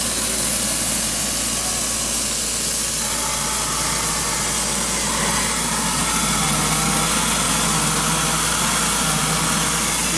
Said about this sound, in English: One person line it up, the other person operate the pump.